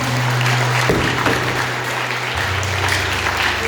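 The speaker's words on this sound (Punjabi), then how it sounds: "ਜ਼ੋਰਦਾਰ ਤਾਲੀ" A church congregation at a pastor's sermon gives loud, sustained applause, an even wash of dense clapping that fills the short stretch at steady volume, with a brief tonal hum at the start.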